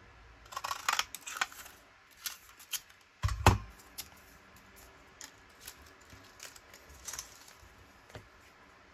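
Paper is torn by hand to make a file tab for a paper-layer embellishment. It gives a few short, crisp rustles and one sharper rip near the middle, close and fairly quiet, with no speech.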